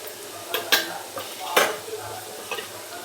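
Onion and turmeric stir in a pan, with a soft steady sizzle of frying broken by several brief scraping clinks of a spoon against the metal.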